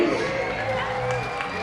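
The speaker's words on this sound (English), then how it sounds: "Give them a big round of applause, please" A baseball crowd at a High Point Rockers game applauds and cheers a brother and sister at first base, a steady, moderately loud wash of clapping and voices from the stands.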